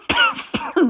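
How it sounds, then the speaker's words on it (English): Three quick close coughs in rapid succession from one person, each a short harsh burst, the last one lower and throatier. "Oh, more coughing, sorry."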